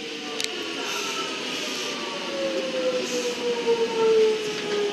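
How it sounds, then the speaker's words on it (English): A Melbourne Metro train bound for Flinders Street approaches Holmesglen station, a steady rumble and rising rail hum with a long squealing tone that grows louder as it draws near, no voices over it. "That Flinders Street train's getting closer"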